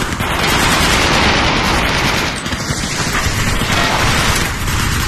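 P90 submachine gun firing in the VR game Aim XR: loud, dense, continuous automatic fire with no break across the whole stretch, heavy and close, with no speech.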